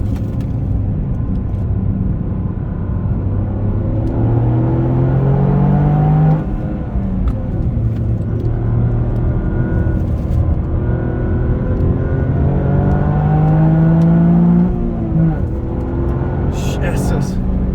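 Toyota GR Yaris engine revving hard on a race track, loud induction roar and exhaust rising and falling through gear changes, with speech over it.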